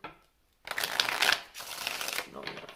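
Oracle cards shuffle briskly in two close, rustling runs, with a short pause between them, near the mic.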